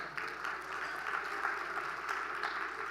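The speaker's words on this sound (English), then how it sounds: "give yourselves a round of applause" A conference audience at the FDRS conference applauds, a soft, even patter of many hands at moderate distance, steady for a few seconds without talk.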